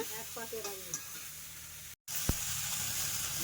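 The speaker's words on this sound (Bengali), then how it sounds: "ফুল কিন্তু চাপিয়ে দিল একেবারে কাঁকড়ার সঙ্গে আর তার সাথে পেঁয়াজ কুচি সব একসাথে দিয়ে দিয়েছে পুরো এক পাকের রান্না হচ্ছে" Tree crab, taro flowers and chopped onion cooking together in a pan, a steady sizzling hiss throughout, broken by a short gap and a stirring scrape, with someone speaking briefly at the start.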